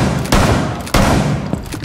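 Gunfire in Rainbow Six Siege, shot through the floor: two loud, close bursts about half a second apart, with a fainter shot near the end, and no speech.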